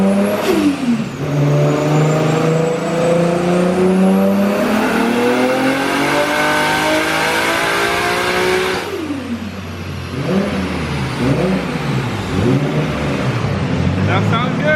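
A built Nissan Skyline with an RB25 engine revs hard, its pitch climbing steadily for several seconds before dropping off, then blipping up and down in quick repeated revs, loud and close.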